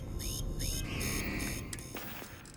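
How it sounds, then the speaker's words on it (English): An alarm in the video game Starfield sounds in repeated electronic beeps and a longer sustained tone, moderately loud over a low rumbling background. "that alarm is getting annoying"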